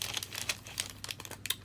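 A small craft pouch being folded and zipped up gives a quick run of close crinkling, rustling taps and short scratchy bursts, with no voices.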